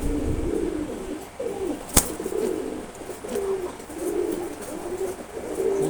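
A pair of silver Gorra pigeons coo softly and repeatedly at close range in low, rolling phrases, with one sharp click partway through.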